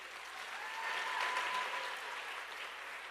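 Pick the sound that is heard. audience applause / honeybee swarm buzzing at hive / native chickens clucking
audience applause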